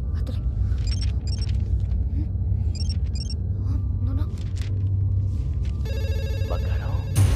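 An old landline telephone rings in repeated double bursts against a low rumbling background, and near the end a voice breaks in over a brief electronic tone.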